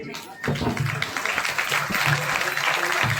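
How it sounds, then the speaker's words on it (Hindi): An audience claps together at a birthday celebration held in a temple during a Kartik festival gathering, with steady applause running under someone speaking loudly over it. "आपने ताली बजाते हुए"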